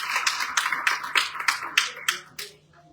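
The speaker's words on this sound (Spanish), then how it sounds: "Denle fuerte una ofrenda de palmas al Señor" A church congregation claps together in praise, a quick run of sharp, close handclaps in an uneven rhythm that tapers off at the end, with a faint steady hum underneath.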